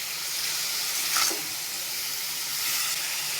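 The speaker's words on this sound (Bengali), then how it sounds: "লাউয়ের এইভাবে একটু তেলে ছেঁকলে তারপরে জল দিয়ে দেবেন" Bottle gourd pieces fry in a little hot oil, a steady close sizzle with a brief stirring scrape in the middle and no talk.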